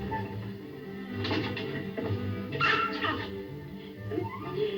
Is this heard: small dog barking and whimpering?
yes